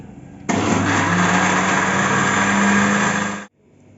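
An electric grinder grinding mint leaves for a strawberry drink, switching on abruptly into a loud steady whirring roar for about three seconds, then cutting off and winding down to quiet.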